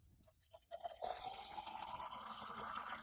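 Water poured from a container into a glass holding vintage 1991 MRE beverage powder, a brief drip and then a steady filling gurgle that rises in pitch, close and fairly quiet.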